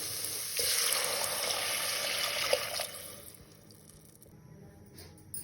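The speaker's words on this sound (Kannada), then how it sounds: "1 ಲೋಟ ಅಕ್ಕಿಗೆ ನಾನು 2 ಲೋಟ ನೀರು ಹಾಕ್ಕೊಂಡಿದ್ದೀನಿ." Water rushes steadily into a pot of rice for a couple of seconds, then stops, leaving a quiet hiss.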